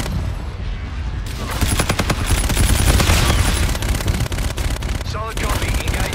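Gunfire in the shooter game Infinite Warfare, dense rapid shots and booms blending into a loud continuous barrage for several seconds, with game radio voices mixed in.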